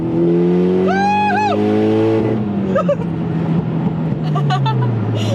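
A Mitsubishi Lancer Evolution X accelerating hard from inside, the engine climbing through a rising whine and rev, a quick shift with a dip, then droning on under road noise with voices cheering.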